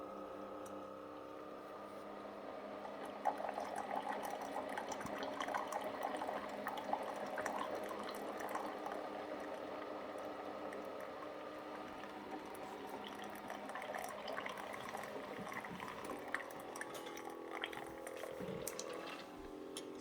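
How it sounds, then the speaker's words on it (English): A Keurig K-Latte single-serve coffee maker forces hot water through a reusable K-cup, making a steady hissing, gurgling rush with soft bubbling pops that runs continuously at low volume without any voices. "there's the water being shot through that reusable K-cup"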